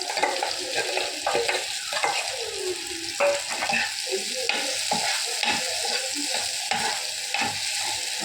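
Soaked potatoes stirred in a pan of masala, frying with a steady sizzle while a spoon scrapes and clanks at close range, with no talk.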